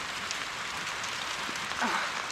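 Steady rain falls on a garden with heavy clay soil during autumn crocus bulb planting, a dense even patter throughout with a brief scrape or rustle near the end.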